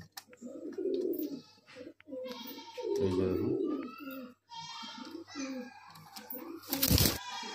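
Madrasi high flyer pigeons coo in low, throaty bursts at close range, recurring through the stretch while someone talks over them and a voice briefly joins in.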